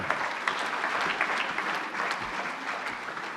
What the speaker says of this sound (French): Je crois qu'on peut encore l'applaudir très très fort parce qu'elle est magnifique.